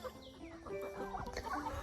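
Chickens clucking inside a chicken coop on a small farm, several soft overlapping clucks and short calls at moderate distance, steady and fairly faint with no talking.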